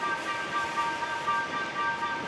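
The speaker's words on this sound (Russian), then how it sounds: "среди ночи вас может ожидать вот такой вот сюрприз в виде проходящего поезда" A freight train rolls past near a beach in Georgia, a steady loud rumble with ringing metallic tones from the wheels and rails, continuous throughout without pause.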